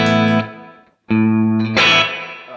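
An electric guitar plays through a Keeley Caverns V2 delay/reverb pedal on its spring reverb setting with the controls at noon. Three bright, sustained notes or chords each ring out with a lingering reverb tail, and no one speaks.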